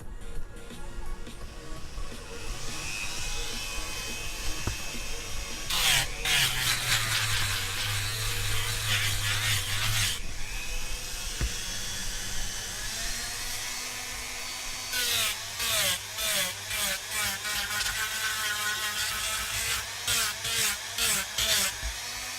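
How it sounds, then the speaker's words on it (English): A handheld Dremel rotary tool carves a foam axe, its high whine rising and falling as the bit bites in, with bursts of rapid chattering grinding between steadier passes, loud and close for the whole stretch. "Dremel noises incoming."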